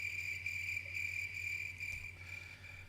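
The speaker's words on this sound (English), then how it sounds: "so I'll just do crickets instead" A cricket sound effect plays in a live-streamed game, a steady high trilling chirp repeating evenly over a faint low hum, moderately quiet and without speech.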